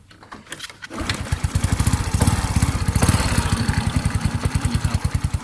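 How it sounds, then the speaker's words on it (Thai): A Honda Wave 100 motorcycle engine starts on the first try after a short crank, then settles into a steady, even idle with a rhythmic putter, close and loud, with no talking. "สตาร์ททีเดียวติดนะครับผม เครื่องนิ่มเลยนะครับผม"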